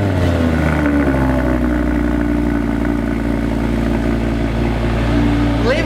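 A car engine runs and revs loudly and close by, a continuous low rumble with clattering mechanical noise throughout and pitch rising at the end, with no one speaking over it.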